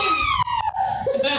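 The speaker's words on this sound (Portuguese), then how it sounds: "Spoiler! Sirene!" A siren sound effect on a podcast wails loudly for about a second and a half, its falling, wavering tone alone and close.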